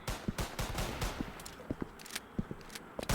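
Video game gunfire from a jail-themed shooter crackles in rapid, uneven bursts of sharp shots mixed with scraping and footstep-like thuds, fairly quiet and without voices.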